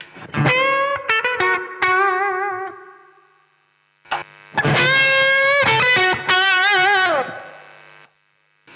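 Distorted electric guitar through the drive channel of a Blackstar St James tube amp with reverb plays chords and bends in two bursts, each ringing out into a reverberant tail before fading to silence.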